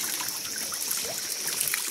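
An outdoor village water tap runs in a steady, fairly faint trickle, a continuous soft splashing stream with no talking.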